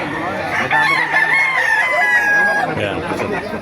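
Roosters crowing at a busy outdoor poultry market in Baliuag, with one long close crow and other fowl clucking amid crowd chatter and people talking.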